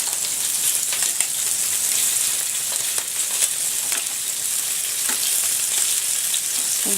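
Mussels cook in a pan with white wine, giving off a continuous bright sizzle and crackle with occasional louder pops and stirring noises, close and steady throughout.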